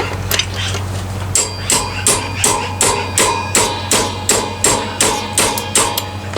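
A wrench working on a dirt bike chain, making a regular series of sharp metallic clicks and knocks about twice a second, fairly close and with no talk.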